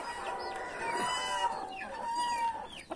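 A white chicken let out at midday to roam clucks near at hand in a few short, throaty phrases, with faint higher bird calls in the background.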